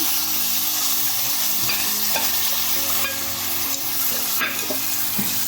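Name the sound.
tomato masala puree added to pan and sautéed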